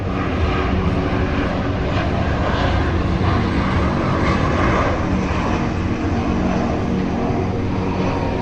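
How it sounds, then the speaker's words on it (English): Fixed-wing aircraft engine roaring near the end of the Skiathos airport runway, a loud, continuous, close broadband rumble that holds steady throughout with no speech. "pass an hour watching aircraft coming and going"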